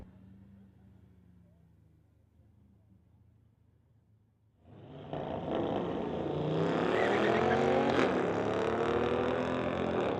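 A 2018 Dodge and a 2019 Audi sit quietly at the drag strip before launching hard, engines roaring up loud and sustained as they accelerate away, a commentator's voice audible faintly beneath.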